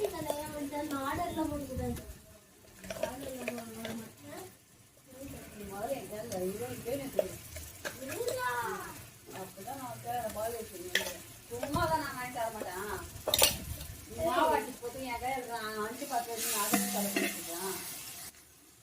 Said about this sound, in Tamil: இஞ்சி பூண்டு பேஸ்ட் போட்டு நல்லா கலரி விட்டுங்க